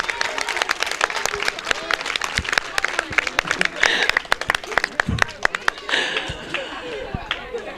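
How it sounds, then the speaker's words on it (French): An audience at the inauguration of a village health post in Senegal claps loudly and raggedly, sharp individual claps standing out over a continuous crowd patter, with a few voices mixed in. "je voudrais que nous applaudissions beaucoup Binta Gay."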